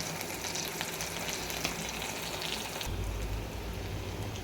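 Spices fry in a pan for a fish egg curry, including ginger, turmeric, coriander powder and cinnamon, with a dense, continuous sizzle that shifts in tone partway through as the mixture is stirred.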